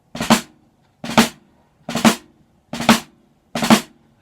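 Five snare drum drag rudiment strokes, evenly spaced about a second apart, each a quick grace bounce flowing into a crisp full hit, played close and alone.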